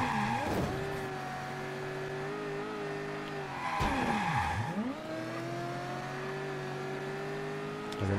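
A car accelerating and skidding in the video game Mafia III: a loud, near engine revving and rising in pitch, with tires squealing hard in two sweeping slides, no voices.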